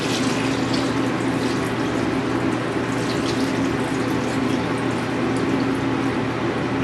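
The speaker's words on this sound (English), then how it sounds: "So to do that, I will cover with cold water." Cold tap water runs steadily into a pot of trimmed beets in a home kitchen, a constant broadband rush with no break and no talking.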